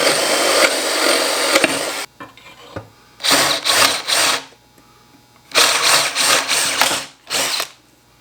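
A power drill boring holes through a plywood sign, loud and close, running in several whining bursts of a second or two with short quiet pauses between them.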